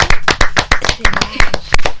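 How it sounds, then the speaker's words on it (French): A classroom of students claps for a classmate during a French lesson, a short burst of separate, fairly close hand claps in an uneven rhythm with talk mixed in. "Applaudissez pour Roderick, s'il vous plaît."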